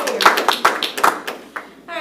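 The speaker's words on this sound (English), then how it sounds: "I feel like we should clap." A small group at a school board meeting claps in a short burst of scattered, uneven hand claps close by, and a voice speaks as the claps fade.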